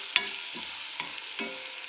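Broccoli with turmeric frying in a pan is stirred in three quick scrapes over a quiet, steady sizzle, close up.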